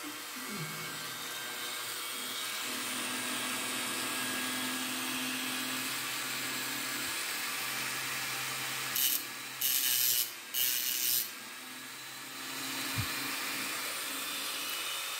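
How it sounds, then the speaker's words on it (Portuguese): A rotary micro grinder cuts through the metal shielding inside a phone with a continuous high, buzzing whine, briefly dipping and surging a few times as it bites into the part. "Vamos agora ligar aqui a micro retífica."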